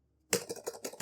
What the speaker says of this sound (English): I also upgraded the keyboard.